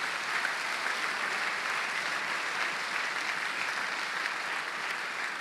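A church congregation applauds to praise God, a dense, steady wash of clapping held at an even level throughout without a break.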